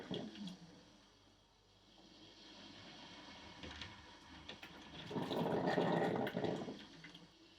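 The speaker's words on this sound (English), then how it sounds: "from here we can take a bit more splashy sounds of the water." Splashy water recorded for game sound design: a low, rumbling wash of moving water that swells into a louder, brighter splashing burst near the end, with no voices.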